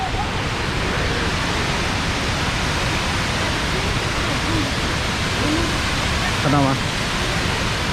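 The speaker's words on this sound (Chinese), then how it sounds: "它是那个屋顶上面有很多那个水流下来，再流进去下面的一个" A tall indoor waterfall at Jewel, Singapore, pours from the roof into a pool below as a loud, unbroken wash of rushing water, while a voice briefly speaks over it.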